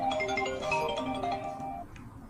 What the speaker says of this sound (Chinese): 等一下，我电话响了。